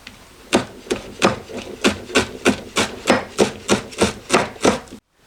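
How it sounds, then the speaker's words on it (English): Knife slicing an onion into thin strips and then across on a cutting board, about thirteen crisp, evenly spaced chopping strokes close up, then a sudden stop. "slice almost to the root in really thin slices, and then I'll turn it and slice across"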